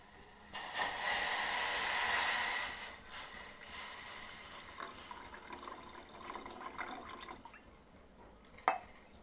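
Water poured from a glass into a saucepan holding sugar for malpua syrup, a bright splashing pour that fades into quieter trickling and a faint drip near the end.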